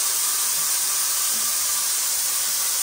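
A paint sprayer coats a newly built house, giving off a steady, loud high-pitched hiss of spraying that runs unbroken for a few seconds with no voices over it.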